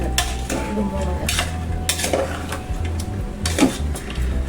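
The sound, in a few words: stirring chicken, potato and sprouts in a pan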